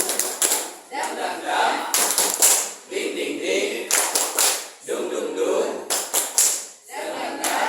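A group performs a rhythmic spirit clap (tepuk semangat), with tight clusters of close, sharp claps repeating in a steady pattern and chanting voices filling the gaps between bursts.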